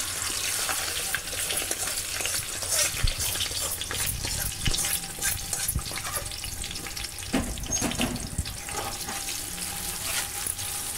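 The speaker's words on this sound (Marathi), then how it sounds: "पहिला आपण हा जो कांदा आपण इथे शिजवून घेतलेला आहे तो याच्यात टाकूया" Cooked onion sizzles and fries in a pan for home-made chicken biryani, a loud, continuous crackling hiss with occasional stirring scrapes and no talk.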